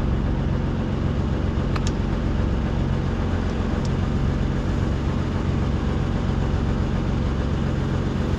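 A John Deere 9620R tractor engine runs at a steady low idle, a loud continuous drone with no changes in pitch, heard close up with a couple of faint clicks and no voices.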